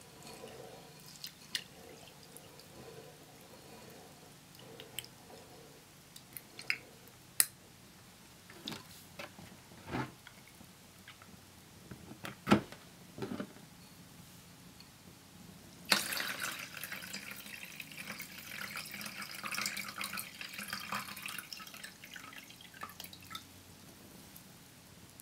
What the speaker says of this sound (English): I think one last rinse and it should be good.